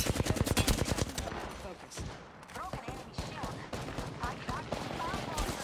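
Rapid gunfire bursts from an Apex Legends match, loud automatic volleys up front then scattered shots, heard under excited player voices talking over the fight.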